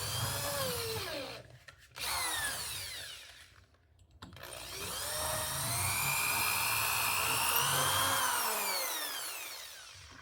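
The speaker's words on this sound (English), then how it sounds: "We need to run a 13/64 drill in there so it's the right size for our helicoil." Power drill turning a 13/64 drill bit into a GM 3.0L or 3.6L starter to size a hole for a helicoil, a whining drilling burst, a brief pause, then a longer steady high-pitched cutting run, heard up close.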